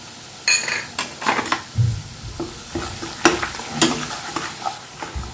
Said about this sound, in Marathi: तेलात एक मिनटं परतून झाले की गॅस बंद करायचा